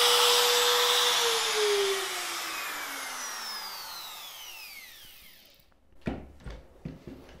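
A wood router runs at a high whine that slowly winds down, then a few sharp knocks and bursts follow as milling continues on a wooden Toniebox shelf.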